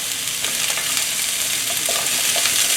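Cut celery stir-frying in hot oil with ginger, garlic and red hot peppers, giving a steady close sizzle with soft stirring scrapes and tosses throughout.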